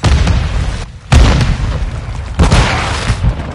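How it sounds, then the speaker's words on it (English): A grenade detonates in Call of Duty: Modern Warfare II multiplayer, a loud booming blast that rolls over dense battle noise, followed by a second heavy burst about a second later. "Grenade!"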